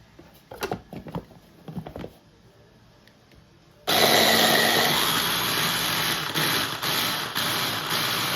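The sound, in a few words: whipping basil, garlic and cheese sauce with olive oil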